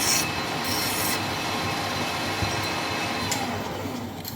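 Continuous rasping rub of a file breaking a metal edge on a handmade part for a Harley Dyna rigid custom bike, close and loud, with brief scraping accents and no speech.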